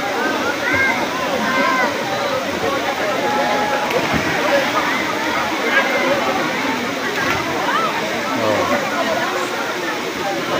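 Steady, dense rush of the waterfall at Daranak Falls on a busy Sunday, loud and continuous throughout with faint splashing and crowd voices mixed in beneath.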